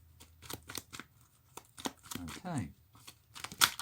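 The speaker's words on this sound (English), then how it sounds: "So just shuffle these up" Playing cards are shuffled for a board wargame in quick papery bursts of riffling and crinkling, close by, broken by short pauses while someone speaks briefly between them.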